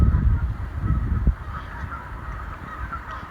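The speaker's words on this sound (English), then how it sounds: "on the north shore of Cacaway Island, we can see some Canada geese having a good old time." Canada geese on the north shore of an island honk loudly and close by in a burst of overlapping calls during the first second, then quieter scattered honks follow over a soft outdoor background.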